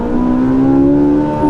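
A Ferrari 458 Italia engine revs loud and close, its steady, rising tone climbing toward the 9000 rpm rev limiter over a short burst.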